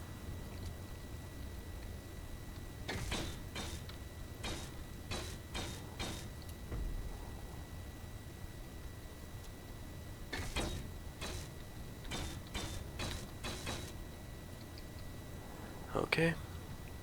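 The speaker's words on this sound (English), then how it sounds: "I'm going to weld up these beams right here." Welding steel beams in a construction video game, heard as two clusters of sharp, repeated crackling bursts of several seconds each, separated by a quieter stretch of low background hum, with a final brief burst near the end.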